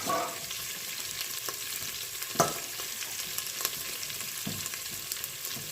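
Aubergines sizzling and frying steadily in plenty of olive oil for ratatouille, a continuous close crackle with occasional stirring scrapes and small pops.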